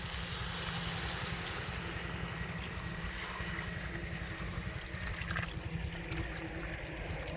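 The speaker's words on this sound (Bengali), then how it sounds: "পানি লাগবে তো শীতের দিনে মাংস তো করতে সময় লাগবে জল দিয়ে দিই" Water is poured into a pan of duck meat cooking at home in winter, giving a soft, continuous trickle and splash that stays fairly quiet and unbroken, with no talking.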